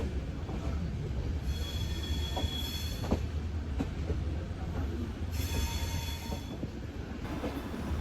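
A passenger train arrives at Jaipur Junction, its wheels rumbling steadily with clicks over the rail joints and occasional high squeals from the wheels, heard close and continuous.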